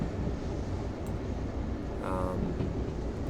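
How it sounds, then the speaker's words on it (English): A diesel train engine idles in Derail Valley, a steady low rumble with a continuous broad wash of noise that holds level throughout, with no voices. "I'm just going to go ahead and idle the engine a bit here."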